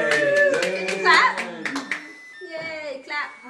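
A few quick hand claps from a child at a birthday cake celebration, heard under cheerful voices and excited child speech.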